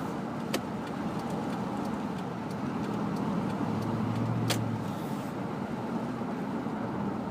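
A 2005 Ford F-150 with its muffler deleted drives along, heard from inside the cab with the passenger window open: a steady low exhaust drone and road rumble, with a few faint clicks.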